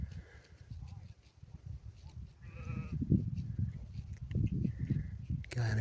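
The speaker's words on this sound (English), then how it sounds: "I've got a community of local sheep to contend with." Sheep bleat faintly in the distance on a calm mountain saddle in the Mourne Mountains, with scattered calls over soft wind and low rumble and no nearby speech.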